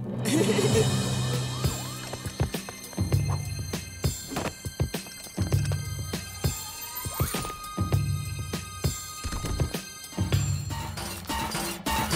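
Wailing emergency siren in a Teenage Mutant Ninja Turtles cartoon, rising and falling repeatedly across the scene amid sharp hits and other cartoon effects.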